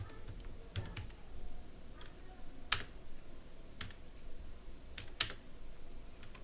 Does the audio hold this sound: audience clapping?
no